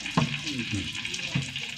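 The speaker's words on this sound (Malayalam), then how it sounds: "കുറച്ച് ചിക്കൻ ഉള്ളു കേട്ടോ അത് വറുത്തെടുക്കട്ടെ" Chicken sizzles in hot oil in a pan, a steady close-up frying hiss with a couple of brief stirring knocks and no talking.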